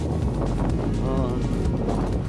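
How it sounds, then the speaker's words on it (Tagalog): Strong, hot wind buffets the microphone in a constant loud roar, with a voice barely audible underneath. "Sobrang lakas ng hangin talaga."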